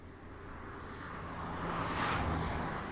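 An airliner touching down at Paris CDG airport, heard as a steady broadband jet roar that swells slightly louder toward the end, distant and with no voices.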